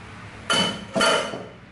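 An American-made Incao cooking pot is handled, giving two bright metallic clinks about half a second apart, close and fairly loud, each ringing briefly as it fades, with no talking.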